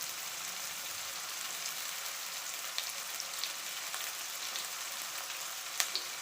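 Green chillies frying in oil give a steady, fairly faint crackling sizzle with scattered small pops throughout.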